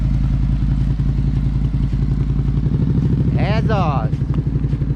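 A motorcycle idles with a steady, rapid chugging beat at a first riding lesson, the throttle picking up slightly as it pulls away, while an instructor talks over it.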